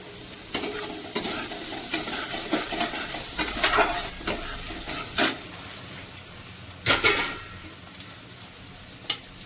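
Chopped ginger fries in a pan for butter garlic chicken, crackling under repeated scraping strokes of a spatula that come in bursts between quieter stretches of steady sizzle.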